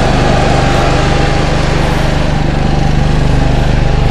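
A 7K Onan generator on a new 2019 Newmar Canyon Star 3722 RV runs with a loud, steady engine drone and constant throbbing hum, close by and with no talk over it.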